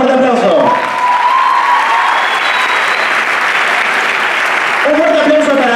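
An audience at a choreographic dance show breaks into loud, sustained applause for a dancer, a dense continuous wash of clapping lasting several seconds, with a voice or cheers rising over it at the start and again near the end.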